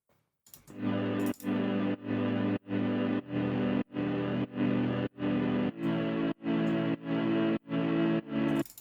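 A synthesizer's main chord patch with effects plays about a dozen evenly spaced sustained chord stabs, each cut off by a short gap, full and distorted with a wide effected tail, heard alone.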